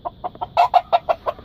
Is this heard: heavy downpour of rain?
no